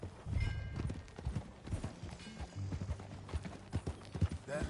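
Horse hooves clip-clop in an uneven walking rhythm on hard ground, fairly close but quiet, with a few faint rustles and no talk.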